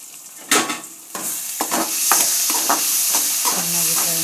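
Masala of dry chilli powder, garam masala and yogurt frying for a dhaba-style black-eyed bean curry, loud close sizzling with a series of sharp scraping stir strokes at an uneven rhythm, no talking.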